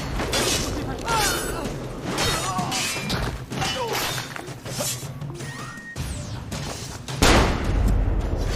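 Gunfire in the video game Assassin's Creed Brotherhood, a run of sharp bangs and crashing impacts mixed into busy game noise, with someone talking loudly over it.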